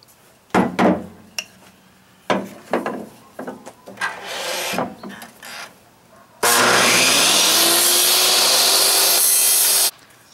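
A wooden walking stick is trimmed with a power tool. Short, near bursts of wood rubbing and rasping come first, then a loud, steady whine from the tool cutting for several seconds.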